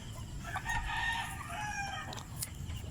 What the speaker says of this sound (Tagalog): Ang ating mga heritage chickens.